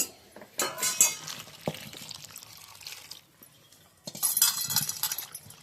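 Chopped brinjals (eggplants) being rinsed in water at a home kitchen, with splashing and pouring bursts, clinks of a vessel, and a quiet pause midway before a second round of sloshing.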